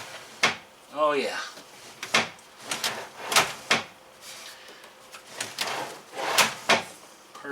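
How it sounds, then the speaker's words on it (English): A wooden drawer slides shut beneath a propane stove built into a teardrop trailer, giving a short scraping glide and a soft knock at close range, with someone speaking briefly around it and other bumps of handling nearby. "so we'll close our drawer."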